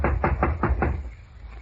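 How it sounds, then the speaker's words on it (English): Knocking on a hotel room door in an old-time radio drama, five firm, evenly spaced raps close up, then a quiet pause. "A few seconds later, I knocked on the door."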